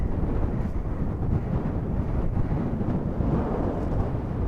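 Strong wind buffets the microphone on a mountaintop while hiking, a dense, rumbling roar with gusty swells and no break, close and loud, with no speech.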